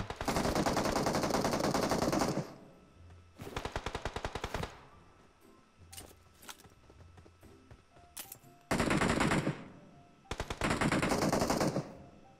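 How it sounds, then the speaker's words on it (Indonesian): Bursts of rapid automatic gunfire in PUBG, loud and sustained, separated by quieter gaps with scattered single shots and faint clatter. "Nah, ada tembakan nih. Dengar, guys."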